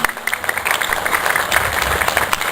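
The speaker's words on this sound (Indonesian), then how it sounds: "Tepuk tangan buat semuanya." Crowd applause at a cultural parade event honouring martial arts performers, a brief loud patter of many hands clapping, close and dense.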